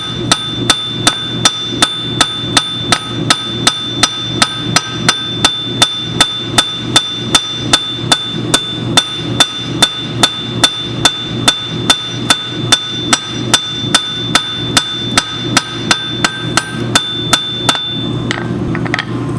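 Steady rhythmic hand-hammer blows ring out on hot steel while forging a weeder gardening tool, dozens of evenly spaced sharp strikes, loud and close, continuing without pause.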